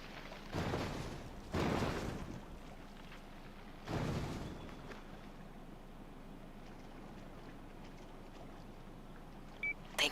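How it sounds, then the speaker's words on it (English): A boat engine in the video game inFAMOUS 2 gives a steady low rumble throughout, broken by three louder broadband surges near the start, with no talking. "I can't talk as loud as this boat's engine is."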